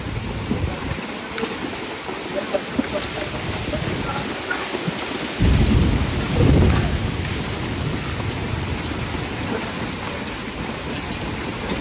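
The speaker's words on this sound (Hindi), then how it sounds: "ओले बड़े नापात, बहुत तेज और बहुत बड़े बड़े ओले" Heavy hailstorm with rain pounding steadily throughout, joined by deep rolls of thunder that swell loudest in the middle before easing back into the continuous downpour.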